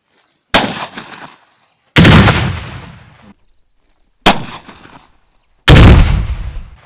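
Four GP-25 under-barrel grenade launcher shots firing VOG-25 grenades, each a sharp loud blast with a ringing tail of a second or so, spaced irregularly a second or two apart, outdoors with no talk.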